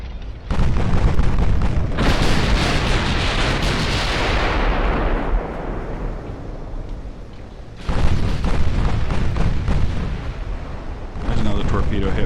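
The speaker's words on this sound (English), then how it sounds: "2 torpedo hits for our ships." Torpedo hits exploding on warships in a naval battle game, a long, loud roar of blasts that swells and slowly fades, followed by further heavy explosions, with a voice talking underneath.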